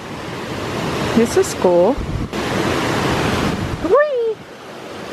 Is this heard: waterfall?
yes